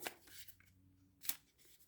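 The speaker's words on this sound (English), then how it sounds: "One more shuffle." A deck of cards is shuffled, short papery riffles and taps, quiet and close, with a sharper snap midway.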